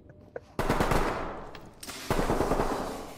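Bursts of rapid gunfire ring out during a tactical breach on a contested position, with two loud volleys of close automatic shots, the second starting after a short lull, with no talking.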